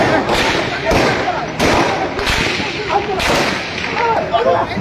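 Repeated gunfire in Gilgit city sounds as about five loud, sharp reports spaced roughly every half second to second, each with a rumbling tail, mixed with background commotion and voices.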